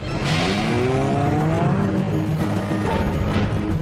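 A British-engineered Gibbs quad bike's engine revs and accelerates at a race start, its pitch climbing steadily and loud and close, with some road or tyre noise beneath.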